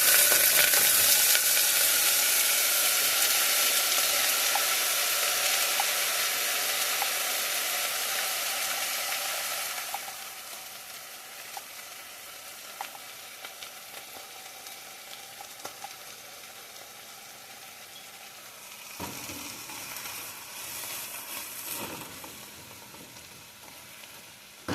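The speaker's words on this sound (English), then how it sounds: "we're going to fry our green peppers, our onions, our carrots, and our celery" Green peppers, onions, carrots and celery frying in oil, a steady close sizzle that starts bright and gradually softens, with a few stirring touches toward the end.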